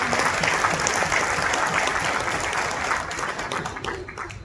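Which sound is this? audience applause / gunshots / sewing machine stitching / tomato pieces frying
audience applause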